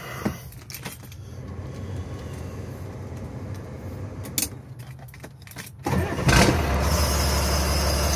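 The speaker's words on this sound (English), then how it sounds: "So I'll just fire this thing up" A 5.9 Cummins 6BT diesel fitted in a Land Rover Defender 130 cranks and catches, settling into a loud, steady idle after a few seconds of quieter clatter and jingling.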